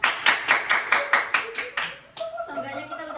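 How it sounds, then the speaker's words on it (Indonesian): Rhythmic, unison clapping from an audience, about eight evenly spaced claps close and loud, then fading as a voice begins talking over the last of them. "Tepuk tangan dulu, Pak."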